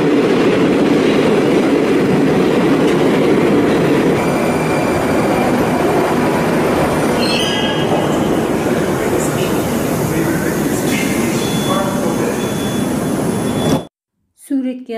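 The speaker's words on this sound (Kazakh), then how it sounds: "жер астында адамдар тасымалдайтын көлік қайсы? Дұрыс айтасыңдар, бұл метро." An underground metro train runs with a loud, continuous rumbling roar and occasional clatter and squeal for about fourteen seconds before cutting off suddenly, followed by brief quieter noise.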